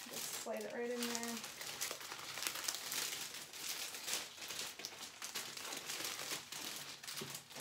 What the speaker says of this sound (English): So this is the poly mailer, just slide it right in there.